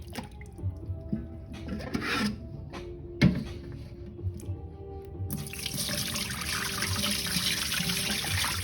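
Raw seafood is rinsed and scrubbed in sandy, dirty water, with soft splashes, handling clatter and trickles, then a steady run of water in a sink, near and moderately quiet.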